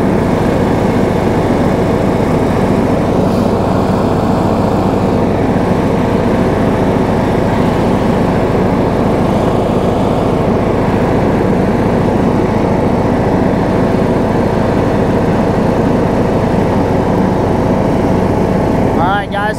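A John Deere E100 riding mower's engine drones loudly and continuously with the blades engaged, a steady whirring under it, the pitch holding even throughout.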